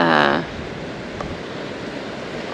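Ocean surf rolls steadily below a coastal bridge, with wind noise against the microphone. A brief voice opens the passage before the wash continues alone.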